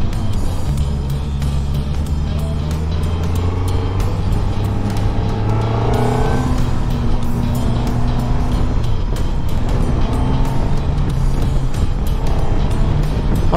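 A Suzuki motorcycle engine idles with a deep, loud rumble, then the throttle is blipped so the revs climb and fall in short rising sweeps, close up and continuous with no talk over it.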